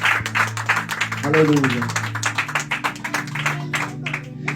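A church congregation gives a burst of clapping for the Lord, with rhythmic, uneven hand claps under a loud voice speaking and calling out.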